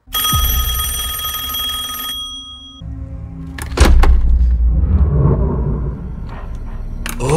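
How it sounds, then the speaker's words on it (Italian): An old telephone bell rings loudly in a film scene for about two seconds, then stops, followed by heavy thuds, clatter and rising noise. "Dopodiché suona il telefono e succede questo."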